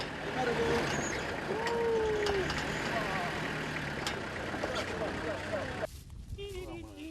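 A truck on Tanna island, Vanuatu, near the active Yasur volcano, rumbling close by and slowing, with a sudden hiss of air brakes releasing near the end, under someone talking.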